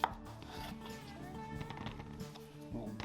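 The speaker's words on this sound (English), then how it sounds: "take some of these red potatoes and probably half some of these bigger ones" A kitchen knife cutting through red potatoes to halve them, several soft thuds and scrapes on a cutting board, close and quiet.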